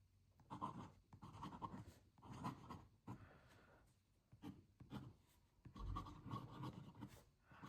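A Kyuseido Kakari fountain pen with a wet, smooth nib writing on paper, giving soft, close scratching strokes in repeated bursts with brief pauses between words, fairly quiet and with no talking.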